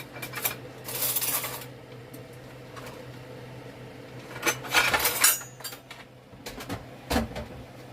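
A spoon scrapes and clinks against a bowl and pan while chocolate cake batter is spooned out, giving several short metallic taps and scrapes in irregular clusters with quiet gaps between.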